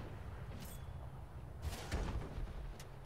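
Tank cannon shots in the console version of World of Tanks, a few sharp distant booms over a low engine rumble, fairly faint with no talk.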